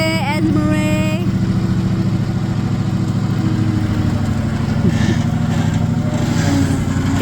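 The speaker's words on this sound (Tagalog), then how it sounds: "Are you riding lawnmower, bebe?" A riding lawn mower's engine runs steadily and loudly up close, a constant mid-pitched drone with a few faint higher sounds over it.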